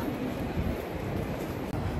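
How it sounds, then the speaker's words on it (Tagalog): Shinkansen bullet train rushing past in Ginza, Tokyo, a steady loud rumbling roar of rail noise with no voices. "Ayan yung Shinkansen na train."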